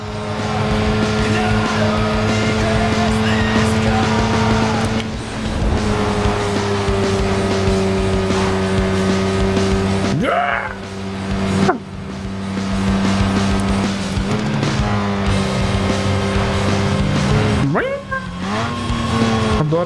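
A Mazda RX-8 races in Need for Speed Underground 2 on PS2, its engine droning loud and sustained at high revs, dipping sharply at gear shifts or braking around 10 and 17 seconds, with occasional tire squeal.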